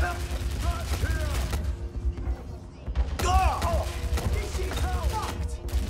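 Gunfire in the Watch Dogs Legion video game: bursts of shots and clattering impacts mixed with game voices and other in-game effects at moderate loudness.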